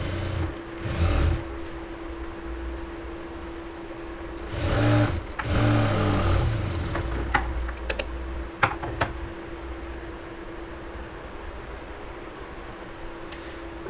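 A domestic sewing machine stitches a blouse in steady runs, its rapid needle clatter continuous and close, with brief pauses and handling knocks between bursts.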